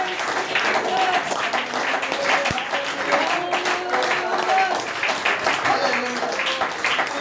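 A church congregation claps steadily while praising during a Sunday service, a sustained wash of applause from a crowded room with voices singing and calling out over it.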